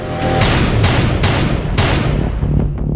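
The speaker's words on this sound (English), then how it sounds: "the sound of gunshots rings out earlier than expected" Loud, sharp gunshot cracks, four or five at irregular intervals, over a dense, continuous rumbling background.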